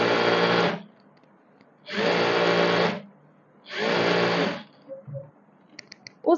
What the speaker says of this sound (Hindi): इलास्टिक को खींचते हुए हमने सिलाई लगानी है,